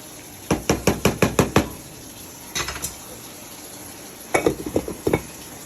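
A spoon scrapes and knocks against a pot of sweet potatoes in a series of quick, close, rhythmic strokes, then a couple of softer touches and another brisk burst.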